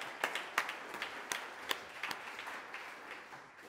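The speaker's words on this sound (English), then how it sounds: "this was your applause." Applause at the close of a climate summit talk on direct air capture, with scattered claps that are faint and distant and thin out over a few seconds.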